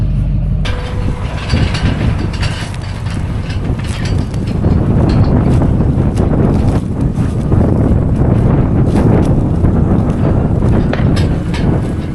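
Strong spring wind sweeps across an open farm field and buffets the microphone with a loud, continuous roar that rises in gusts, with no voices.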